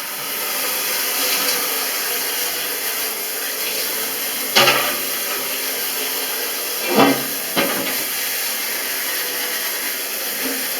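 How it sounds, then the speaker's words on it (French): Water spraying hard onto a removed oven glass part treated with vinegar: a continuous close hiss with a few brief louder splashes. "Et ensuite, vous arrosez à fond la pièce là-dedans."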